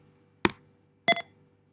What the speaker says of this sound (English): Now notice you'll hear a beep when it selects.